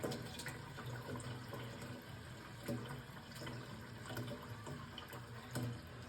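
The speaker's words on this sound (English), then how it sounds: "I'm using my RO, so it takes a little longer for the water to fill." Water runs from a reverse-osmosis tap into a cooking pot in a kitchen, a steady close hiss and splash that continues without a break, with no talking.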